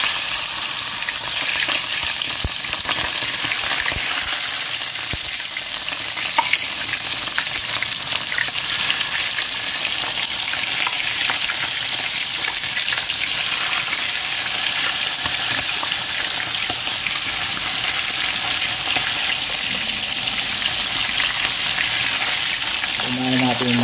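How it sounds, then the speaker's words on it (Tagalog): Fish frying in hot oil, a loud, dense, steady sizzle and crackle that holds unbroken for the full stretch, close up with no voices. "Ngayon mga kabayan, mainit na po yung ating mantika. Ang ating piprituhin."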